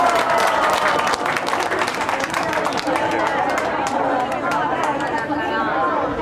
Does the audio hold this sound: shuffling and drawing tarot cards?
no